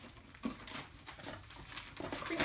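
A crinkly plush fox dog toy with a crinkly tail being crumpled, giving close, faint, irregular crackling rustles throughout.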